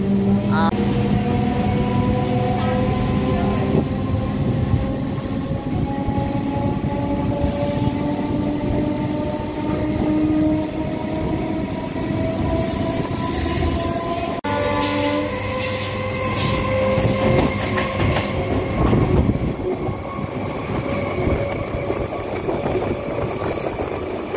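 A local passenger train on the Kolkata to Digha route rumbles steadily along the rails, with wheel squeal and rattling carriages close by throughout and faint voices in the background.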